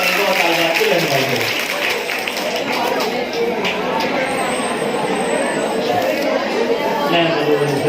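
Dense, steady audience applause at an educational forum in Malegaon, loud and continuous throughout with crowd chatter mixed in.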